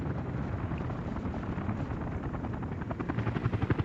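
A helicopter is heard overhead in a farming game, a steady loud rotor drone with rhythmic blade chop that grows stronger and more pulsing toward the end, with no talk over it.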